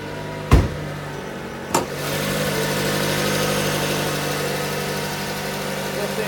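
A 2015 Dodge Dart SXT sedan's MultiAir 2.4-liter four-cylinder idles steadily up close, after two sharp thumps near the start.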